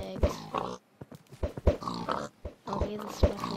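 Pigs oinking in a Minecraft party game, short grunting snorts recurring every second or so, up close and mixed in with people talking.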